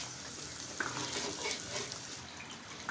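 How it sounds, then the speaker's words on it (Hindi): Mutton karahi with halved red chillies stir-frying in a pan, a steady close sizzle with soft stirring scrapes throughout and no voices. "और इसको अब हम अच्छे तरीके से भून लेंगे।"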